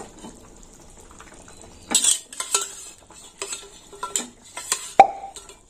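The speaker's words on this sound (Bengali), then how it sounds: "ঝোল ফুটে গেছে, এবার মাছগুলো দিয়ে দেবো।" Fried fish pieces go into a pot of boiling curry gravy, producing a few wet plops and soft splashes along with spoon clinks against the pot, spaced out over a quiet background.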